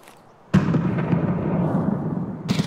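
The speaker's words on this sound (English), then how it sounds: "Grenades flying everywhere." Grenade blasts and gunfight in the shooter game Escape from Tarkov: a sudden loud burst at about half a second rolls into a sustained rumbling roar, followed by a second sharp blast near the end.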